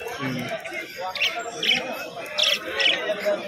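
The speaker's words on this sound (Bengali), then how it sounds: "আর এদিকে কি পায়রা? গিরিবাজ, কালো সবুজ।" Giribaz pigeons at a pigeon market, giving short, repeated bird calls in a few bursts over a low background of people's voices.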